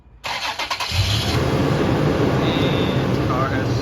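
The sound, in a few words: car engine starting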